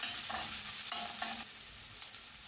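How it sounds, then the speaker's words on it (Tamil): Sliced onions and slit green chillies sauté in a pan, with a soft, steady sizzle and a few scraping strokes of a spoon stirring them. The sound is quiet and close, with no talking. "வெங்காயம் கண்ணாடி போல் வர வரைக்கும் வதக்கிக்கணும்."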